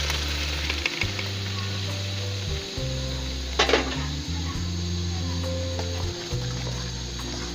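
A tomato, green chili and onion paste fries for a desi tinda dish, giving a steady broadband sizzle with a brief clatter partway through, over a low continuous hum.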